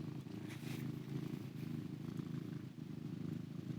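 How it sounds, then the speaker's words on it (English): A steady, low rumbling cat purr continues throughout, close and even, with no talking. "Hear him purring"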